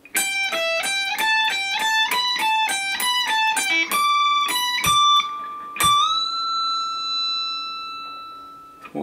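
An electric guitar plays a riff on the first string only, a rapid run of distorted, bright notes climbing and falling in a steady rhythm, then held sustained notes, loud and close with no talking.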